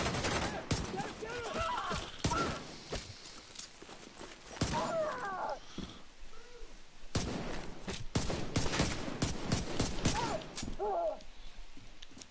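Division 2 shooter gameplay with a one-shot marksman rifle and pistol build: sharp, loud gunshots crack repeatedly in irregular bursts over game sounds, with a voice talking throughout.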